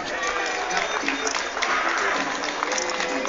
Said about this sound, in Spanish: Fuerte aplauso, arriba los brazos deportistas.